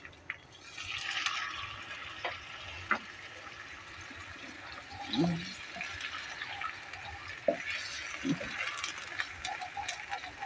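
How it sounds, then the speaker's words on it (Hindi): Water poured into a pan of frying garlic, ginger, onions and curry leaves for fish korma, giving a splashy liquid wash with scattered utensil clinks. "पानी शामिल करेंगे।"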